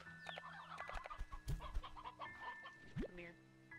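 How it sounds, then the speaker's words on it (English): Chickens cluck and squawk in Slime Rancher 2, several birds heard in overlapping bursts with sharp calls, fairly faint in a busy game soundscape. "this is a lot of chickens, actually"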